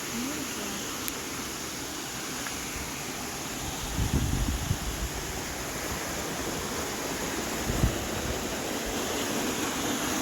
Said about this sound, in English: So this is the little waterfall